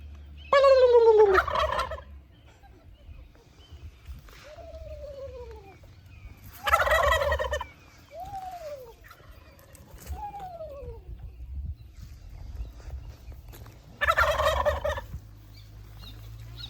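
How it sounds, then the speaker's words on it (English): Wild Rio Grande turkeys in a breeding-season flock in Southern California gobble in several loud bursts, with quieter descending calls between them against low background rumble. "It's breeding season for turkeys in SoCal, and they were strutting around, gobbling, and dragging their wing feathers."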